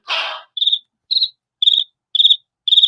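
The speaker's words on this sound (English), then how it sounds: "Crickets chirping." Cricket chirps as a sound effect: a short hiss and then five evenly spaced high, bright chirps, crisp and close against silence.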